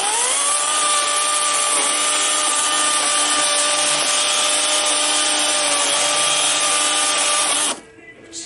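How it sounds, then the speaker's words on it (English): A battery-operated chainsaw cuts through a wood knot with a loud, steady whine for about eight seconds, then cuts out abruptly, leaving quiet handling noise. "I'm going to take my freaking old battery-operated chainsaw, stick it through there, and cut that off."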